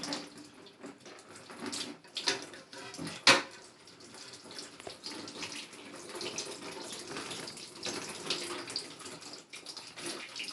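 Water from a leaky toilet tank drains and splashes out at close range, a continuous rushing trickle with a few louder clunks and spikes, and no talking.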